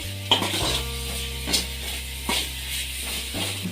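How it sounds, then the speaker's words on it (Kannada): Onions fry in oil until golden brown for a drumstick fry, with a soft sizzle under a steady mechanical hum and a few sharp spatula scrapes and taps against the pan. "ನೋಡಿ, ಈಗ ಈರುಳ್ಳಿ ಕೂಡ ಗೋಲ್ಡನ್ ಬ್ರೌನ್ ಬರೋ ಥರ ಫ್ರೈ ಮಾಡ್ಕೊಂಡಾಗಿದೆ"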